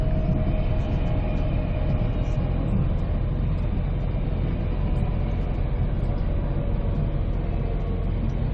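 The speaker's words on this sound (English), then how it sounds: "the train has arrived in Gladstone" A steady, loud rumbling drone of Queensland's Tilt Train rolling along the tracks into Gladstone station, continuous and even throughout with no voices.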